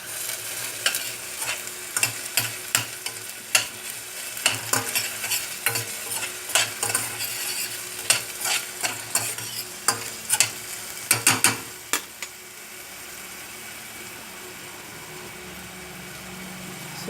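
Small onions stir-fried in a pan for sweet and sour fish, with steady sizzling and repeated scraping stirs of the utensil over about twelve seconds, then a quieter, even frying hiss with no talk.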